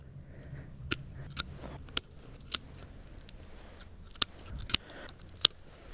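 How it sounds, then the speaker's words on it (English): Pruning shears snip through rose stems in a garden, making about eight sharp, close clicks spaced irregularly over a quiet outdoor background. "Anything that's really small and feeble like this, I just cut right off to the base."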